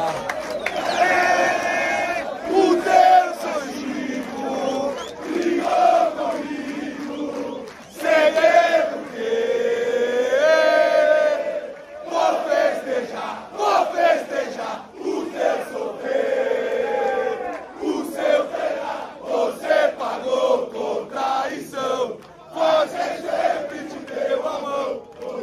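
Corinthians football fans chant and sing loudly as a massed crowd in São Januário stadium, with swelling, rhythmic surges of voices and brief dips between phrases.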